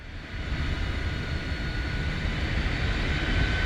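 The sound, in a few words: iniBuilds T-33 jet engine throttle, Microsoft Flight Simulator video game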